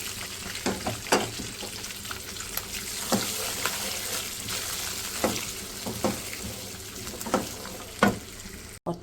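About a quarter kilo of green peas frying and sizzling in a spice masala for green masala keema, a steady crackling sizzle with occasional stirring scrapes, close and continuous without talk.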